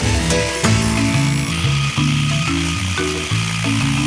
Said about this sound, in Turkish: Şimdi hep karıştıralım. Köpük köpük olana kadar karıştıralım.